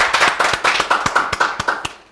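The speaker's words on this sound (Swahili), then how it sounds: "makofi ya the Warois" A small audience claps for the Warois family in a brisk, fairly rhythmic run of about fifteen loud, close claps that fade slightly at the end.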